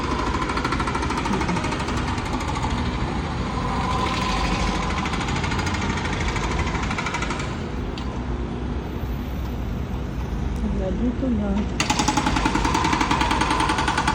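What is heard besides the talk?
construction work noise in the city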